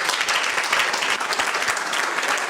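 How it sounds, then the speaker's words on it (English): An audience at a live hackathon event claps together in a dense burst of applause, close and loud, steady for a couple of seconds. "Clap for him."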